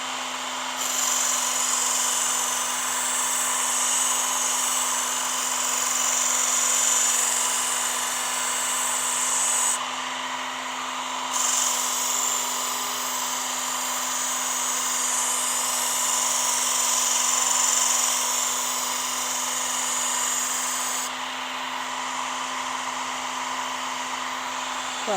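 A Harbor Freight 1x30 belt sander grinds a Wusthof steak knife, a steady, loud, high whine over a low motor hum that runs continuously, with brief shifts in tone as the blade is repositioned.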